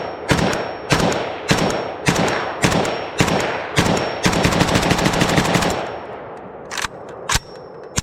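Gunfire from a Polish WBP Jack AKM rifle with a flash hider, fired outdoors after dark: loud close shots, first a string of evenly spaced single rounds, then a rapid burst, then a few more single shots.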